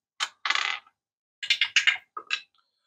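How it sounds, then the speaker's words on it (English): A six-sided die for a tabletop wargame rattles and clatters on a hard surface in two bursts of quick clicking bounces, close and crisp, with silence between. "So we've got to roll a D6."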